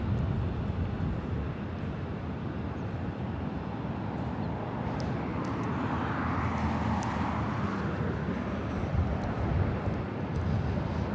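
A Boeing 777-200ER pushes back at LAX, its engines holding a steady, broad low roar with a faint whine rising above it, heard from a distance without any voices.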